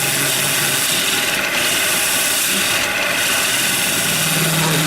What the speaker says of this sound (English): I am basically scraping or shear cutting with the edge of my tool.